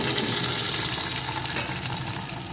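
Potato pieces frying in hot oil for a Bengali bean, potato and rui fish curry, giving a steady, loud, dense sizzle that holds throughout without any voices.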